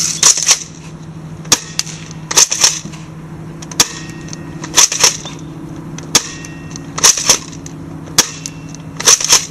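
An AGM full-metal 614 airsoft gun fires BBs in sharp, loud single shots, about eight cracks spaced a second or so apart, with faint metallic rattles between them and no voice.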